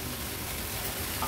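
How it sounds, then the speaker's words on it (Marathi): Drumstick vegetable with freshly grated coconut being stirred and sautéed in a pan for a Konkani-style festive dish, giving a steady, soft sizzle with scraping stir noises throughout, close and continuous with no talking. "पुन्हा एकदा भाजी व्यवस्थित परतून घेते।"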